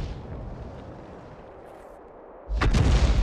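An S-51 self-propelled artillery gun in World of Tanks fires a single heavy, booming shot after a low, rumbling engine drone, the blast loud and close with a lingering roar.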